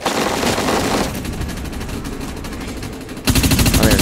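Rapid automatic gunfire from the shooter game Dust 514 rattles in loud, dense bursts, close and sustained, ending in a harsher, heavier volley with no talk over it.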